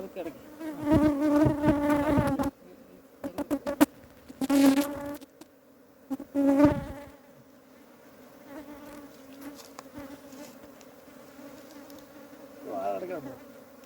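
Loud, sustained hum of many bees swarming as a hive is split, with the buzz swelling and fading in bursts and a few sharp close passes, mostly without talk.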